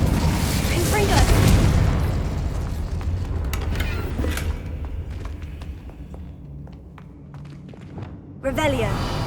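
A Confringo explosive spell from Hogwarts Legacy bursts with a loud boom early on, then dies away into scattered thuds and footstep-like knocks, with game voices over the top.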